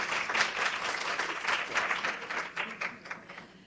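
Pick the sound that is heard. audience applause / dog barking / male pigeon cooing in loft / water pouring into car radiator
audience applause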